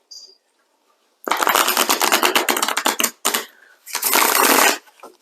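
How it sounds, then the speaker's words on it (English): A tarot card deck riffles in quick, loud bursts of rapid flapping clicks, two main runs separated by a brief pause, close to the listener with no talking. "we're going to pick another card"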